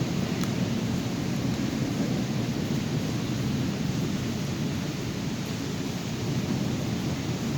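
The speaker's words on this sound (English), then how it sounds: "watching Mother Nature's fantastic show of lightning and listening to the thunder" Thunder from a huge approaching thunderstorm rolls as a steady low rumble beneath a constant hiss of rain, fairly distant and unbroken, with no voices.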